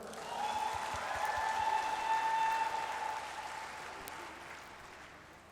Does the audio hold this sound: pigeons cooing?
no